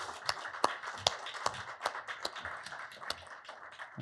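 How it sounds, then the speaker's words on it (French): Scattered hands clap at a science communication final as candidates line up, sharp distinct claps spaced irregularly rather than a full ovation, moderately close and fairly quiet. "on peut les applaudir encore"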